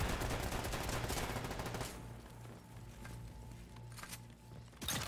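Rapid automatic gunfire in the battle royale video game Off The Grid, a loud dense burst for about two seconds followed by quieter scattered shots and game noise.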